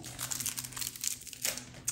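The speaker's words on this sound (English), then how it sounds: "So I'm just going to take the plastic off of here." Thin plastic wrapping crinkles as it is peeled off a new TOHETO video light during unboxing, a close, soft, continuous rustle with small crackling bursts and no voices.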